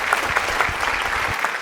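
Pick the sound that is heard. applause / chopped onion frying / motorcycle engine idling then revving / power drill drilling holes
applause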